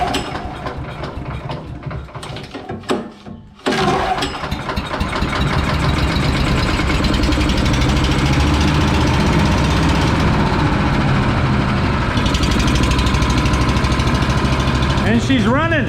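An engine cranks with sputtering bursts, falls briefly quiet, then catches and settles into a loud steady idle close by, with people talking over it.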